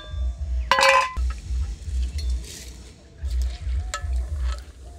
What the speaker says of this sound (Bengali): জল আমাদের ফুটে গেছে টকবক করছে চালটা এর মধ্যে দিয়ে দিচ্ছি